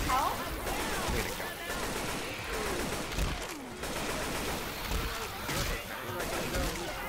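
Rapid AK rifle bursts fire in the game Left 4 Dead 2, chattering almost without pause, while several players talk over the shooting.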